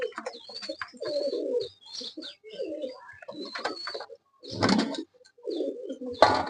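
A pair of pigeons coo repeatedly at close range, in soft throaty bursts separated by short pauses, with light chirps and some faint human voice activity in the background.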